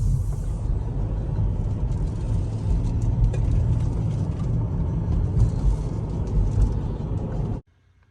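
A 2021 Ford F-350 Platinum pickup truck drives along with a steady, low road rumble and engine drone that holds constant for about seven seconds, then cuts off abruptly.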